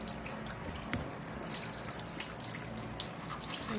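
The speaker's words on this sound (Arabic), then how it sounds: "هنضفها معاكم بالسفنجة كده ومية جارية عليها" Tap water runs steadily while a sponge scrubs a dishwasher, a continuous close splashing flow with small drips and rubbing sounds, moderately loud and without speech.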